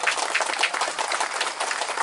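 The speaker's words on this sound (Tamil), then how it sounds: "அவருக்கு ஒரு கைத்தட்டல கொடுங்க" Audience applause at a pre-school event in Dambulla, steady dense clapping filling the whole moment without a break.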